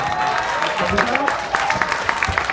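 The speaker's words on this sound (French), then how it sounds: "Magnifique, on peut l'applaudir." Scattered clapping from a small group rises under a speaking voice, close and moderately loud.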